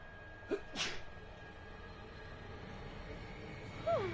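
A single sharp sneeze from a character in a fantasy role-playing video game, followed by a quieter second burst, heard over a low ambient game soundscape.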